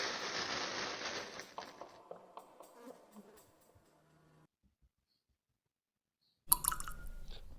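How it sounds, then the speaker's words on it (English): Sparse water drips echo through a dungeon in the Fear & Hunger video game, starting over a buzzing insect-like drone that fades into near silence before a sudden louder burst of game sound at the end. "A echo of lone water drops fill the air."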